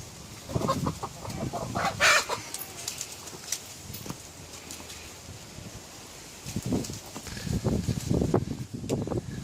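Sussex chickens cluck and murmur close by in scattered bursts on a cool day, with a brief quiet stretch midway before the clucking picks up again.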